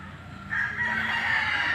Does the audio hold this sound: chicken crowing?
yes